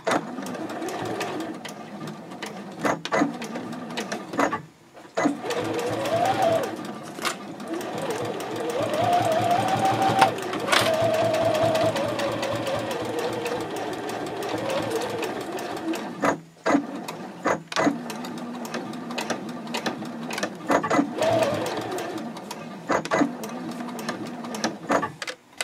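A sewing machine stitches the side seam of a fold-flat fabric basket at a 3.0 stitch length, running in steady bursts with short pauses and backstitches. It is close and fairly loud, and no one speaks.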